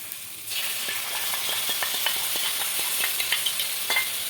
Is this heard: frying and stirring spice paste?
yes